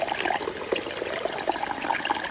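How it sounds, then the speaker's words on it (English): Water filtered from a CNOC bag through a screw-on filter into a Jetboil pot on the Appalachian Trail trickles in a steady, continuous stream, close and fairly loud. "then filter into your jet boil"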